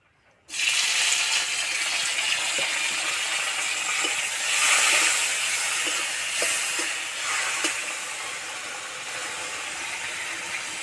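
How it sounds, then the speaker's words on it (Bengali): Chopped tomatoes hit a little hot oil in a wok and burst into a loud, steady sizzle that holds strong throughout, with faint clinks of the utensil now and then. "কড়াই অল্প একটু তেল আছে এই তেলে দিয়ে দেবো টমেটো কুচি"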